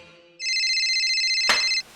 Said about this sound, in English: Turn off your cell phones.